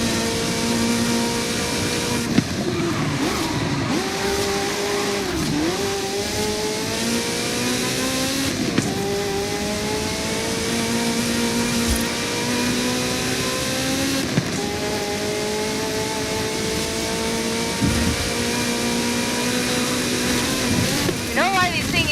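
A Ferrari F40 in Forza Horizon 5 revs and pulls through its gears, the engine whine rising and dropping steadily and loudly throughout while a narrator talks over it.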